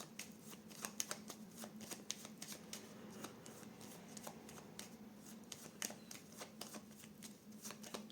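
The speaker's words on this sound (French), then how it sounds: "on va recouvrir certaines cartes pour voir un peu." Cartomancy cards shuffled and slid over one another in a quiet room, with soft, frequent flicks and snaps close by and no talking.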